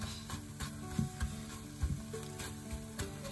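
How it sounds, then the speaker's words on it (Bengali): Food fries gently in a frying pan with a small amount of oil, a faint steady sizzle broken by soft clicks and occasional light taps, heard alone without talk. "ভেজে নিব, ভাজা ভাজা করে নিব।"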